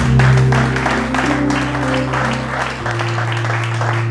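A church congregation applauding in praise, steady dense clapping throughout, with a sustained organ or keyboard chord beneath and a shout or two rising from the crowd.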